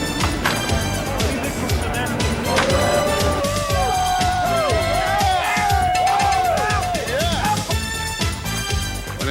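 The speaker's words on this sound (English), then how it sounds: "the crowd was loud." A loud baseball crowd cheering and whooping at the 1996 NLCS in St. Louis, a dense roaring wall of voices with a stadium organ melody rising through it and an announcer talking over it.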